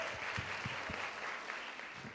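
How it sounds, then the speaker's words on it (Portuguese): An audience applauds at an education event, a steady, fairly quiet bed of clapping with a few low thumps mixed in. "Uma salva de palmas."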